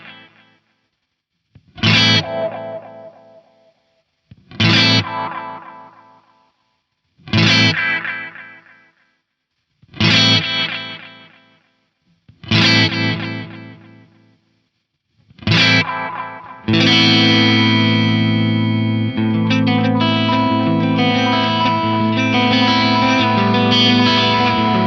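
A Korg Toneworks 301 dl effects unit as its hi-fi/lo-fi control is swept up: six loud distorted hits repeat about every two and a half seconds, each fading, then the sound becomes a dense, sustained, gritty wash.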